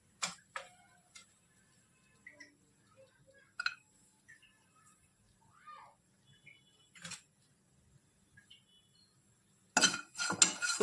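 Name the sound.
dry coconut pieces roasted in a pan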